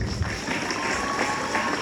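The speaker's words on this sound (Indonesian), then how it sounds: "Tepuk tangan." Audience applause breaks out in a classroom lesson, a brief, steady patter of hands clapping at moderate volume, lasting under two seconds.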